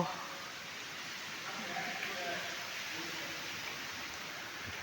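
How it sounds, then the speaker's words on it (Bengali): Heavy rain falls steadily outside a college classroom, a dense, even hiss that holds for the whole stretch without pause. "জোর বৃষ্টি পড়ছে ভাই, দারুণ লাগছে"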